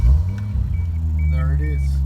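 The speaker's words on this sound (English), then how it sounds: "So let's crank it and see if it starts." Toyota Supra MK3 with a single-turbo, standalone-managed 2JZ engine rumbles loudly at close range as it fires and settles into a steady idle, with a voice speaking over the running engine.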